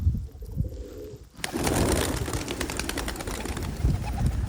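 Male pet bird in a cage singing to a female with soft cooing and chattering calls over a busy rustling background of other birds, heard close and moderately loud.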